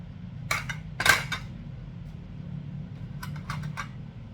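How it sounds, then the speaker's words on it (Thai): A knife cuts a lime on a cutting board in a kitchen, making a few short, close clicks and chops over a low steady fan hum. "หั่นมะนาวไว้นะคะ"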